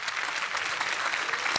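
A studio audience at a Marathi television comedy show gives steady, dense applause for the artists, loud and unbroken, with no other sound.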